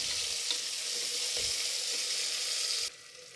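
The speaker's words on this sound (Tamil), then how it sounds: "வெங்காயம் நல்லா ப்ரௌனாக ஆகிற வரைக்கும் நல்லா வதக்கிக்கணும்" Sliced onions and cashews frying steadily in oil in a pan, a dense, continuous hiss that holds close and even before cutting off abruptly near the end; no voices.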